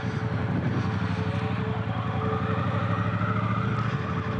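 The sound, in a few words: Triumph Bonneville Bobber motorcycle being ridden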